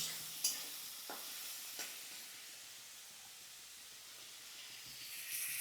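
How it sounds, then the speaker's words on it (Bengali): Cabbage with a pinch of salt being stirred in a pan, a soft steady sizzle with a few scattered scraping knocks of the spoon, fairly quiet and close, no voices. "এবার এটা একটু নাড়ব, নেড়ে সমস্ত বাঁধাকপিটাকে এর মধ্যে আমি দিয়ে দেবো।"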